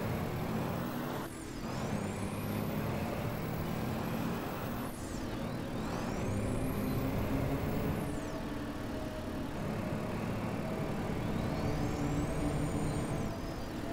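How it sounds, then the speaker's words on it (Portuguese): A school bus in a driving video game runs along a dirt road, its engine droning steadily while the turbo whistles and spools up in repeated rising sweeps, each dropping away before climbing again. "barulho da turbina enchendo, mano"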